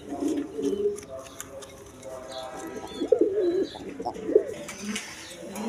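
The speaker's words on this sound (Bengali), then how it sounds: "এখানে এক পেয়ার কালদম কবুতর আছে দেখেন, কোয়ালিটি সম্পন্ন কবুতর, একদম ইন্ডিয়ান কালদম" A pair of Indian Kaldom pigeons gives soft, low cooing calls in several short bursts, close by, over a faint background hum with light chirps.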